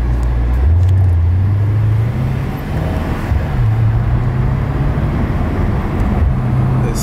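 Mercedes-AMG E63 S cruising fast on a highway at night, its engine a steady loud drone with rising and falling tones over constant road and wind roar, no one speaking.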